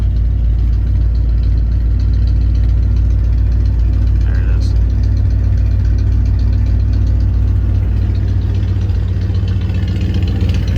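A 1995 Ford F250 with a 302 V8 and straight pipes idles on a cold start, a loud, close, deep rumble with steady low pulsing throughout and no let-up.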